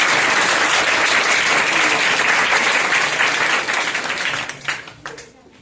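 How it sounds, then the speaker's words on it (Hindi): Loud applause from a large audience at an institute gathering, a thick sustained wash of clapping that thins out and fades toward the end. "चाहूंगा कि सर के लिए, इंस्टीट्यूट के लिए आप अपने लिए जबरदस्त ताली पहले बजा लीजिए।"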